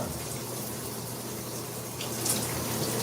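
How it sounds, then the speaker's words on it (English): Steady rushing water from a running shower, loud and continuous, swelling slightly toward the end. "Y'all ready for me to take a shower?"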